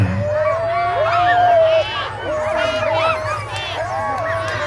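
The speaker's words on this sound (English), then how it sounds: "Oh, we got some nice singing, howling going on." Sled dogs at a championship race start in Alaska howl in long rising-and-falling chorus waves, yelping over one another near and loud, with a murmuring crowd and a voice in the background.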